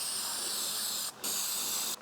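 Spray paint hisses from an aerosol can onto paper in two close, steady bursts, the first about a second long with a brief pause before the second, then a sharp cutoff.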